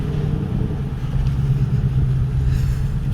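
A Ford Mustang 5.0 GT drives along with a steady, deep engine rumble heard from inside the car, holding an even, loud drone.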